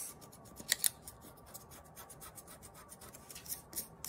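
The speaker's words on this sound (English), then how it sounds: "and you can just erase" An eraser rubs a pencil mark off a paper plate during a fish craft, making soft scratchy strokes in short bursts with quiet gaps between, close by and with no talking.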